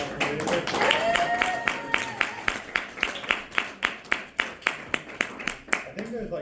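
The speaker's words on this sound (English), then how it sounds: "Maybe like a big round of applause for" A jazz gallery audience applauds, the dense clapping thinning into a steady run of separate, evenly spaced claps that fades toward the end, with voices talking over it.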